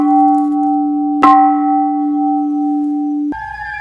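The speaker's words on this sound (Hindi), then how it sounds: "तभी घंटा बजने लगा।" A large bell in a horror story rings out with a sustained, humming tone, struck once more partway through and then shifting to a higher ringing pitch, loud and with no voices.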